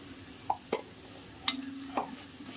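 Vegetable rice with home-grown ground black pepper being stirred in a pan, a few separate scrapes and taps of the spoon against the pan over a quiet background.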